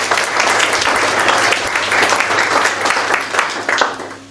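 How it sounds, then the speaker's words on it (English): Wedding guests applaud after a speech, a steady, dense burst of clapping that holds for about four seconds, with a few cheers mixed in near the end. "Can we have a round of applause?"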